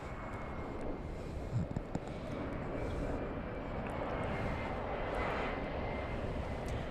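A jet airliner flies in to land at Los Angeles International Airport, its engine roar a steady broad rumble heard from a distance, continuous and moderately loud.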